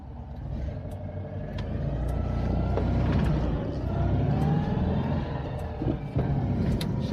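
A Citroen Ami8 car on new rear tyres driving along a road, heard from inside as a steady low engine drone and tyre rumble that holds constant throughout, with no talking.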